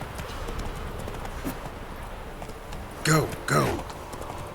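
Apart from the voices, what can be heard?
horse Roach galloping in the video game The Witcher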